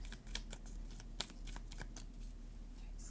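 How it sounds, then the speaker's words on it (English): Oracle cards from the Island Time Wellness deck are shuffled by hand, a quiet run of soft riffling flicks and papery slaps repeating at an uneven pace, close and alone without talk. "I'll first shuffle some oracle cards"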